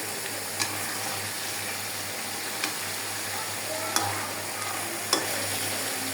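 Koi fish curry cooking in a pan with a steady low sizzle and hiss, broken by a few soft stirring scrapes, close and moderate in level with no talking.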